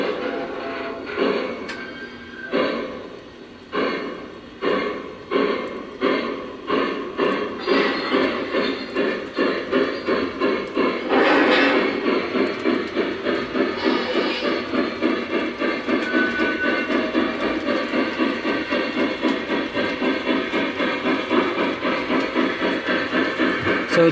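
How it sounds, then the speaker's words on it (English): A small Lionel model train engine whirs and clicks along the track, rhythmic ticking that speeds up into a steady mechanical hum, close by. "we're just going to run our engine a little bit."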